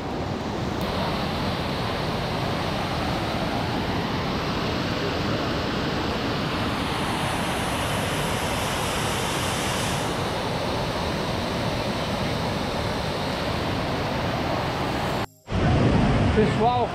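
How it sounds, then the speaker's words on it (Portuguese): Iguaçu Falls at Foz do Iguaçu, heard from right beside the cascades, gives a steady, loud, broadband roar of pounding water that runs unbroken and close up, with a brief dropout near the end. "As quedas, a gente bem do lado delas aqui."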